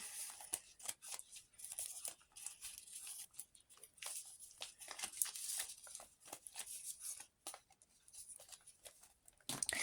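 Paper surprise packets are torn open up close in quiet, crisp ripping and crinkling bursts that come in irregular snatches, faint and with no voices.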